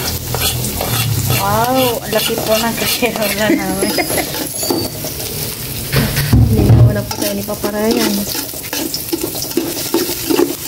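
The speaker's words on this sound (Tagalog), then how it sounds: "Gisa na po namin itong bawang." Chopped garlic sautéing in a large pan, a steady sizzle and frying crackle with stirring throughout, heard under continuous talking.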